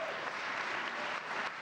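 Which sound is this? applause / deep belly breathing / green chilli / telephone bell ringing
applause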